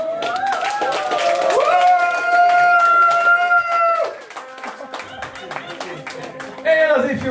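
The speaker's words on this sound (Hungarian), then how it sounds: "És akkor most egy nagy tapsot" Wedding guests clap for the newlyweds at Niki and Pisti's celebration, the scattered claps sounding under sustained music and lively voices, with the music swelling and then thinning before a new phrase starts.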